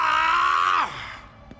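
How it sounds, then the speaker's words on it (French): A man in a cartoon lets out a loud, sustained scream that suddenly drops in pitch and trails off into a falling groan, followed by near silence. "J'ai entendu crier"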